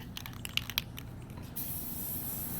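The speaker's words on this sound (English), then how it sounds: "Take your maroon spray paint" Maroon spray paint hisses from an aerosol can onto a Halloween buzzard taped in plastic, a steady close spray beginning partway through after some faint handling clicks and rustles.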